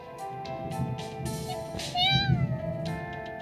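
A cat meows in a few short, clear calls, one rising and falling, heard close over a soft background with no speech.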